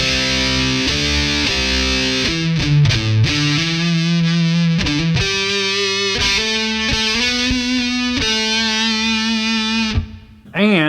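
A restored Austin AU786 LP-style electric guitar on a humbucker through a high-gain rig plays heavily distorted, sustained, saturated chords and riffs, loud and continuous, with a brief cut near the end before ringing out again.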